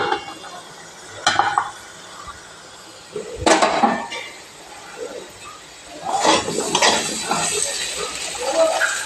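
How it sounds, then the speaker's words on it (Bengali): A lid is lifted off a cooking pot of half-boiled potatoes for a banana flower recipe, giving a few close metallic clinks followed by a soft sizzle from inside. "আমি এবার ঢাকা খুলে দেখব।"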